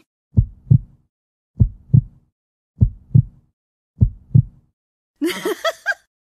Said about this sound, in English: That heartbeat sounds good to me.